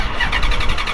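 A wrecked Maserati GranTurismo's engine fires up in a brief, loud, rough burst of cranking and catching, with pulsing mechanical roar close by and no talk.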